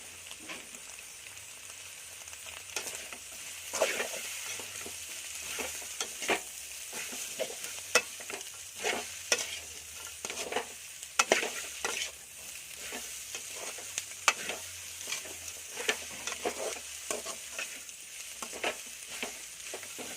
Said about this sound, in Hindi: इसके बाद में डालेंगे हम लोग कैबेज और कैरेट।